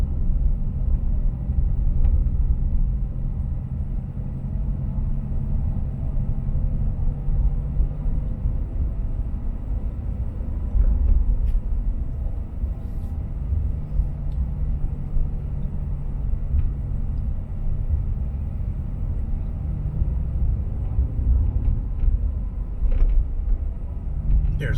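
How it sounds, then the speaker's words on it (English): A vehicle rolls slowly through the RV campground at Percy Quin State Park in Mississippi. A steady low engine and road rumble continues throughout, with a few faint clicks and knocks on top. "I'm going to give you a little basic drive through the campground"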